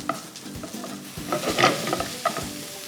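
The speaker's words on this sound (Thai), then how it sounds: "เพราะฉะนั้นเนี่ยเราถึงต้องผัดหอมใหญ่ของเราให้สุกก่อน" Onion and pork stir-fried in a pan give off a continuous sizzle, with repeated scraping strokes of a spatula stirring the mix close up and no voices.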